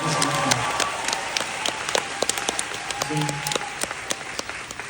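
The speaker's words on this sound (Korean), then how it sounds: "박수 치셔도 돼요." A fan concert audience in a hall applauds the singer, sustained dense clapping with sharper individual claps standing out, and a voice speaks briefly over the crowd.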